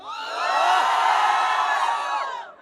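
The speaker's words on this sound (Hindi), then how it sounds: "जो लोग मुझे जानते हैं एक बार जोर से चिल्ला दें" A live audience at a Hindi poetry show shouting and cheering together, a dense burst of whoops and yells that swells and fades over a couple of seconds, loud and close.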